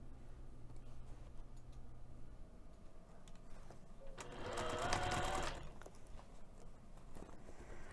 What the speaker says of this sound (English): we're going to be stitching the lining in place using a quarter of an inch seam allowance